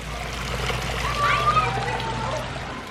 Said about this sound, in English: obviously you got to shut off your waterfall